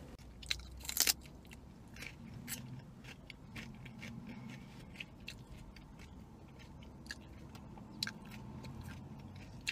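A toasted tomato sandwich being bitten and chewed up close, with sharp crunchy bites near the start followed by repeated moist chewing and crisp crunches spaced through the quiet stretch.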